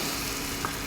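Ginger and green chili paste for a broccoli mushroom masala goes into a hot pan, giving a dense, steady sizzle and frying hiss with faint stirring, close and continuous, with no talking.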